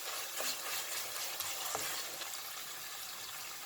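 Ground meat and tomato paste fry in a pan for spinach stew, with a soft continuous sizzle and faint scraping strokes of a spoon stirring, quiet and close, with no talking.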